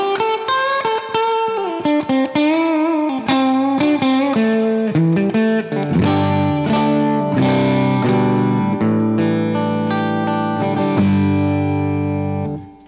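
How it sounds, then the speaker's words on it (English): An Equinox Nephilim electric guitar on its bridge and neck pickups together plays a fast overdriven riff, then moves into ringing sustained power chords, loud and continuous with no speech. "let's go ahead and give a listen to the two pickups together"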